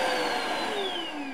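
A cordless floor-cleaning vacuum runs with a steady motor hum and a high whine that drifts slowly downward, fairly quiet and with no voices over it.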